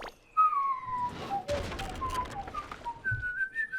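A whistled jingle from the SpongeBob: The Cosmic Shake video game, heard as a run of short rising and falling whistle notes at close range, with a brief burst of noise partway through.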